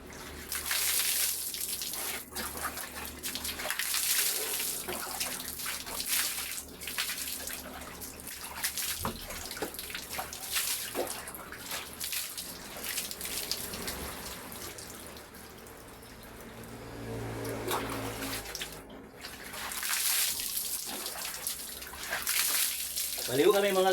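Water runs steadily from a tap in a bathroom during bathing, a continuous hissing splash with bursts and drips, with people talking over it.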